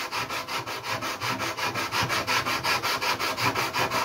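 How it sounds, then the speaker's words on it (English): Sanding the balsa wood leading edge of a model aircraft wing, a close, rhythmic rasping rub repeating in quick even strokes, roughly four per second, with no voices. "So I'm just sanding that to shape"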